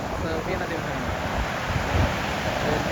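Sea waves wash over a pebble beach at Seven Sisters in the UK, a continuous rushing surf with heavy wind buffeting the microphone.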